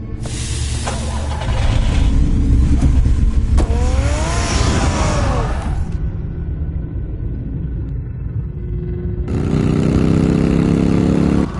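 Car engine in a Batman Arkham cutscene, revving loud and sustained with rising and falling pitch, then a rougher steady drone and another surge near the end, with no talking.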